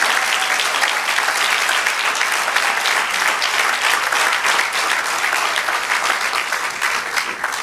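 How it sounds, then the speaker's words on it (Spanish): A church congregation claps hard and loud in a sustained, dense roar of applause that carries on without pause for several seconds. "Dele un aplauso con todas sus fuerzas a Dios."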